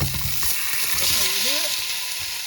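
Potatoes sizzle and crackle steadily as they fry in a hot pan, a dense continuous hiss with a few faint clatters from the pan, close and moderately loud, with no talking.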